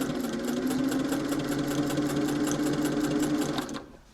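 A sewing machine stitches a waistband seam on a bubble skirt at a steady fast rhythm, close and even, running for several seconds before stopping near the end.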